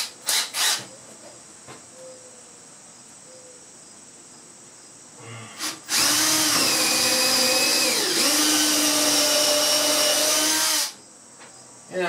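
After a few short clicks, an electric drill whines loudly and steadily for about five seconds boring a screw clearance hole during a window installation, its pitch sagging briefly as it bites in.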